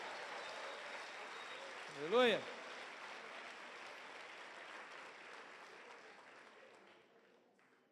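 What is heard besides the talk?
congregation applauding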